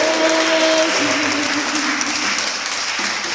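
A church congregation applauds loudly and continuously, with voices acclaiming God and a sustained tone running beneath the dense clapping.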